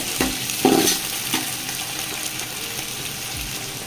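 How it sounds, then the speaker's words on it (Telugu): Onions and green chilies frying in a pan for spicy mutton biryani, stirred with a couple of clanking scrapes early on, then a steady, close sizzle continues with no talking. "ఈ పెద్దలపాయలు అలాగే పచ్చిమిరకాయలు వేగేంత వరకు ఉంచండి ఒకసారి కదుపుకోండి"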